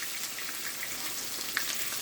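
Silver bass fish fry in a pan with oil, giving a steady, close hiss of sizzling throughout with a faint pop near the end.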